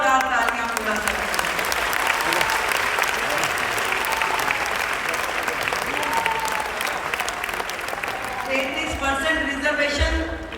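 A large crowd at a Women's Day event in Delhi gives loud, sustained applause that fills the space for about ten seconds before tapering off as speech resumes.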